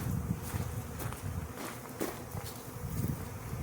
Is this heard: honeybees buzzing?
yes